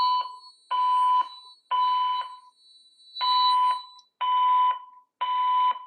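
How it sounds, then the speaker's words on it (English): A loud electronic fire alarm sounds in repeated tonal bursts, about six pulses separated by short gaps, with no voices. "The fire alarm in this building has been activated."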